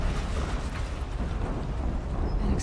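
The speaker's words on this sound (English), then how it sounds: "An explosion." A loud, sustained rumbling blast from an explosion in the video game Horizon Zero Dawn, with dense low roar and steady noise filling the whole moment and no voices over it.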